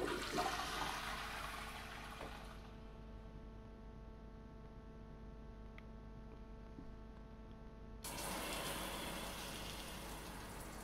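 A toilet flush in the video game Prey: a loud rushing swirl of water at the start and again near the end, with a steady low hum and a quieter pause between.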